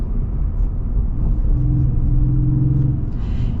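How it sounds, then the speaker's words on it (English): A Ford F-150 pickup's Coyote V8 engine rumbling steadily from inside the cab, a deep low drone with a smooth hum that rises slightly partway through. "This engine's smooth too. Yeah, listen to that."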